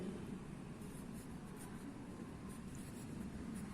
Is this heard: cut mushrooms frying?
no